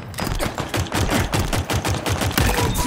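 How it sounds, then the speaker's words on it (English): Rapid pistol gunfire in a video game match where everyone is using pistols, with dense, repeated sharp shots in a fast steady rhythm, loud and close throughout. "I'm on a killing spree with the pistol right now"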